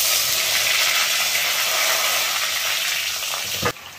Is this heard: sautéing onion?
yes